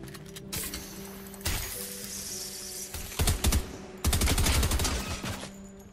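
Rapid bursts of gunfire from a Fortnite Chapter 4 Season 4 solo match crack out in several clustered volleys, loud and close, with brief gaps between them.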